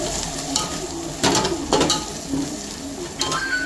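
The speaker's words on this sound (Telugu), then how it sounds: "ఇది బాగా కొద్దిగా ధనియాల పొడి కొద్దిగా ఫ్రై అవ్వాలి అంతే లైట్గా" Coriander powder frying lightly in biryani masala in a pan, a low steady sizzle broken by a few louder scraping stirs of a spoon against the pot.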